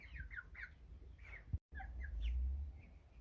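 Several American Bresse chickens cluck and squawk softly in short bursts, with shuffling noise and a brief low thump midway.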